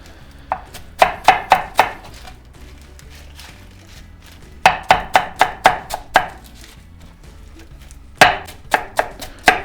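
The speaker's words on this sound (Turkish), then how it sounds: "Normalden biraz ben büyük doğrayacağım." Rapid bursts of a knife chopping arugula on a cutting board, close and crisp, in three quick runs separated by short pauses.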